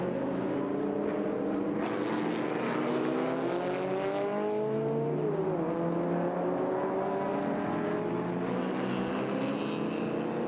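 Engines of 1990s race cars, including car number 23, howl in a continuous layered drone with rising and falling pitch as cars pass and shift, heard from a moderate distance without any talk.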